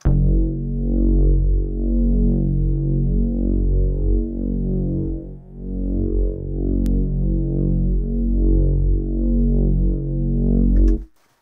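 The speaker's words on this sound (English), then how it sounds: "Pretty simple, just kind of pulses, distorted sine wave type of thing." Ambient synth drone built from a distorted sine wave, pulsing steadily in a low, thick, continuous tone with a slow throbbing rhythm, played alone for about eleven seconds before cutting off.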